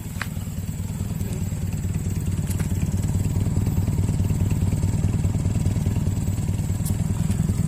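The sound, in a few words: Honda Civic Wonder engine with HKS exhaust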